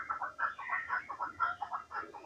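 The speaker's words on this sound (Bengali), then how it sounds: "এই যে এখানে একটা চকা পাখি দেখতে পারতেছেন আপনারা" Ruddy shelducks at a national zoo give a series of repeated, honking, quail-like calls, fairly close and rhythmic, with several birds calling in quick succession.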